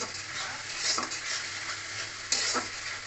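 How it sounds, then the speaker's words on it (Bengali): Masala for egg curry is stir-fried in a pan, with a soft, steady sizzle under gentle scraping strokes and one sharper clink of metal on the pan partway through. "এবারে ভালো করে মশলাটা দিয়ে আবার কষবো।"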